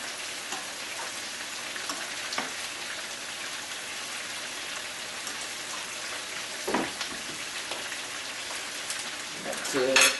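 Fish sizzles steadily in a pan on a stove turned to medium, a soft continuous crackle and spatter like light rain, with a few clinks and a louder burst of sizzling near the end.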